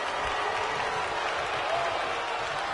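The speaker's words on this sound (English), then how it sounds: "Getting the crowd fired up in it." Virtual crowd in a WWE 2K22 wrestling match cheers and applauds steadily, a dense, even roar filling the arena throughout.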